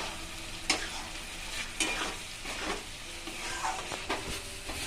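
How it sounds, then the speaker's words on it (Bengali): Garlic, ginger and chili paste frying with onions in a pan, a steady close sizzle broken by several sharp scrapes of stirring, with no talk. "এবার আমি দিয়ে দিচ্ছি রসুন আদা আর লঙ্কা বাটা"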